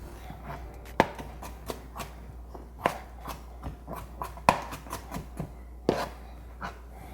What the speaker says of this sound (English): Now I'm just gonna chop it up